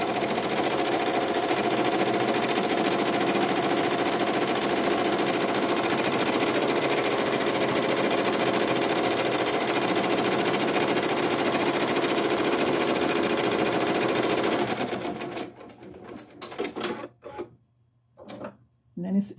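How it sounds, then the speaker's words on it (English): An embroidery machine runs steadily for about fifteen seconds, trimming around a vinyl appliqué in a three-layer embroidered piece, with a continuous mechanical whir that stops abruptly and gives way to scattered quiet handling noises. "I'm going to hit start and it's going to trim around again because it's going to treat it as the other part of the"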